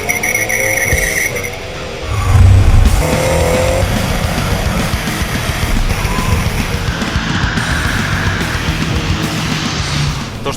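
A 2012 BMW M5 F10 is driven hard on a test drive, its engine roaring loudly and continuously as it pulls through the gears, with tire noise and a deep thump early on.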